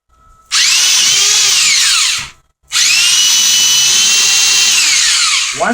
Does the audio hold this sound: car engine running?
no